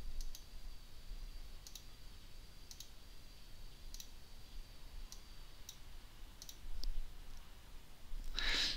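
A computer mouse clicking through options in software, sharp faint clicks spaced irregularly about once a second over a quiet room hum.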